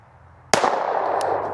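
A single sharp gunshot from a Sig P365 pistol fired at a small target, a loud crack with a long echoing tail, followed by a faint metallic ping.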